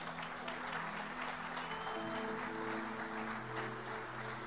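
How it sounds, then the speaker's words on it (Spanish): A church congregation clapping in praise, a dense sustained wash of applause mixed with music tones, moderately loud and continuous without pause. "Dale un fuerte aplauso a Dios."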